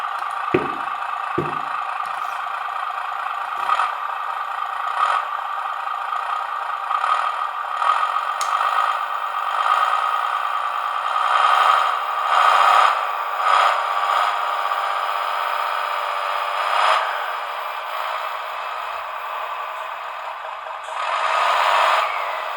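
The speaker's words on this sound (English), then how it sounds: "I will switch into the first gear, the slow one, the very strong one" ScaleART MB Trac RC tractor running in its slow first gear, a steady high electric motor whine with faint gear hum holding for over twenty seconds, slight swells in pitch and a few light clicks at the start.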